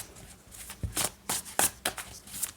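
Tarot cards riffle and slap in quick, close bursts as the deck is shuffled and cards are pulled, several crisp flicks over a couple of seconds with no talk.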